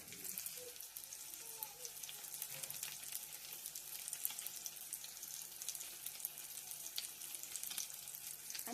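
Pasta tossed with packet masala frying in a pan gives a faint, steady sizzle with light crackles throughout. It is quiet and close, with no talking.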